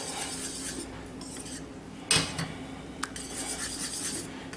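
A utensil stirs cheese sauce in a pan, giving a soft scraping rub with a sharp metallic clink or two, close up and without talking.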